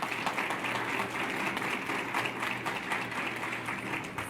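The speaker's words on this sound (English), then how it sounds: "So a quick round of applause for Dick and Barb." An audience gives a steady round of applause at a university special announcement, broad continuous clapping heard somewhat distant and moderately quiet throughout.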